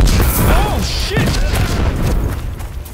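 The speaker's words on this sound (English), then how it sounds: "I just hear the bullets zipping over me and explosions" Gunfire and explosions on a World War I battlefield in the video game Ad Infinitum, a dense, continuous rumbling barrage with sharp cracks and whizzes, loud throughout, with a voice faintly mixed in.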